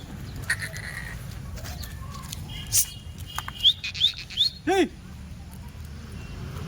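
Kathewadi goats on a farm give a single loud bleat near the end, preceded by a few short bird chirps over a faint, steady outdoor background.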